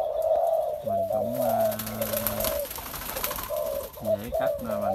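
A dove coos in repeated low, hollow calls, several phrases in close succession and fairly near, with a steady higher tone running behind them and no speech.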